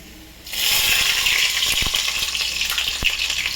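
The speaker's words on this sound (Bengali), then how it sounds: "আগে রসুনটা দিয়ে দেবো তেলের ওপরে।" Garlic cloves drop into hot oil and burst into a loud, steady sizzle that holds for several seconds, with a few faint clicks of a utensil against the pan.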